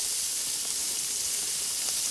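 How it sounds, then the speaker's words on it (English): Steaks searing over full heat on a barbecue, a steady close hiss and sizzle that holds evenly throughout with no talk. "they're going to get a good smoke and sear"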